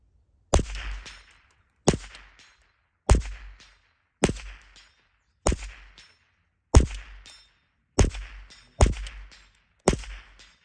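Ruger 10/22 rifle fired repeatedly at steel targets 100 yards away, nine evenly spaced sharp shots roughly a second apart, each a crisp crack with a short ringing tail, no talking.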